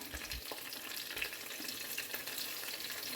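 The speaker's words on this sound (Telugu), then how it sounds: "ఉల్లిగడ్డ ఫ్రై అవుతుంది" Onion frying with ginger paste in a pan gives a steady, close hiss and crackle that runs without a break and stays fairly quiet, with no voices over it.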